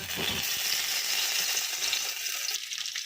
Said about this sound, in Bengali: অল্প পরিমাণে তেল দিয়ে, সাদা তেল, ছোট ছোট শেপে ভেজে নেব।